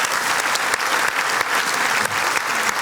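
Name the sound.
audience applause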